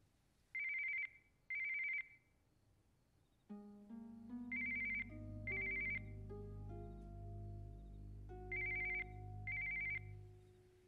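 A telephone rings in repeated electronic double bursts, three pairs spread across the stretch, over a low sustained musical score from a film scene.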